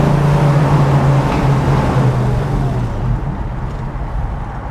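A 1968 Dodge Charger rolls through a big sweeping right-hand freeway on-ramp turn, its engine giving a loud, steady low drone with a held note that shifts slightly as it pulls through the curve.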